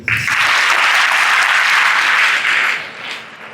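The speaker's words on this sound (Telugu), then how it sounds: "10వ తరగతి వాళ్ళ కోసం క్లాప్స్ కొట్టండి" A crowd of school students applauds for the 10th class pupils, a loud, close, dense burst of clapping that holds strong for over two seconds before tapering into scattered claps.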